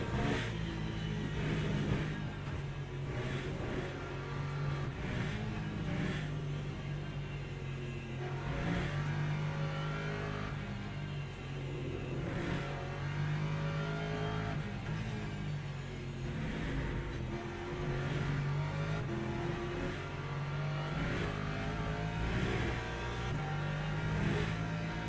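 Hypercar race cars from the Le Mans Ultimate sim racing game, online WEC championship at a stormy COTA: steady engine drone with repeated revving surges and shifts, cars running close throughout, no voices.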